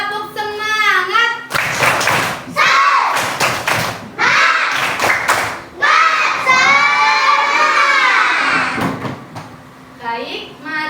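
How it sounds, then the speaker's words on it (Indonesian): Schoolchildren in a classroom shout a rhythmic spirit chant with sharp group claps, loud and close, lively bursts of voices and clapping across the whole stretch with short pauses between. "Tepuk semangat."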